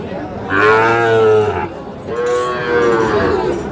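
Young Sahiwal breed bull calves at the Ambari cattle market, two long loud moos close by, each lasting about a second and a half, separated by a short pause.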